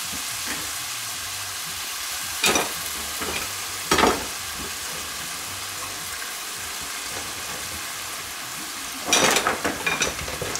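Lamb and sorrel sauté in a pan with a constant close sizzle, broken by three short bursts of stirring scrapes.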